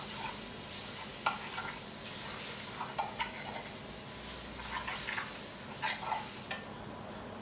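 Chicken tikka dansak curry, British Indian restaurant style, is stirred in a hot pan, with a steady sizzle and frying hiss broken by repeated light scraping taps of the spoon.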